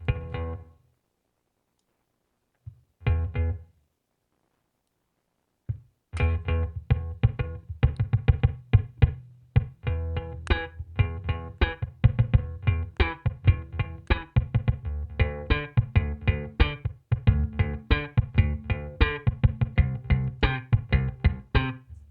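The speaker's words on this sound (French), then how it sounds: "Je vais remettre un peu de reverb. Voilà, il y en a un peu trop là. Se mettre en mode room." Bass guitar played through a Two Notes Opus with room reverb: a few isolated plucked notes, then a steady run of punchy slapped and popped notes, each trailing a short room ambience, played alone.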